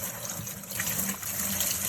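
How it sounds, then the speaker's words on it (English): Water with dissolved detergent pours from a pitcher into a portable washing machine tub, a continuous splashing gush held at steady volume for two seconds. "I'm going to just pour that in the tub"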